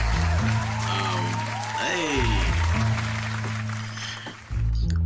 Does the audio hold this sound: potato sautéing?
no